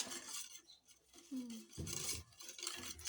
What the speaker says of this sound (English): 2 eggs. Whisk, whisk.